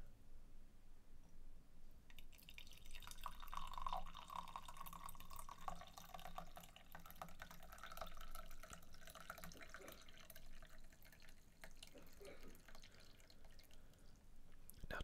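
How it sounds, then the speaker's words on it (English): Tea pours into a cup in a quiet room, a soft steady trickle with small drips and clicks of the cup, close and gentle, continuing for several seconds with no talking. "let's pour it here"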